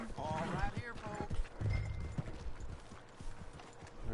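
Horse hooves clip-clop steadily on a dirt street in the video game Red Dead Redemption 2, near and rhythmic beneath character dialogue and a town vendor calling out.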